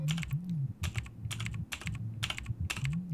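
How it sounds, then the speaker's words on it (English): Clacky mechanical keyboard typing from the horror game Hush Little Baby, bursts of close keystrokes in uneven clusters over a low droning hum. "Like my mechanical keyboard."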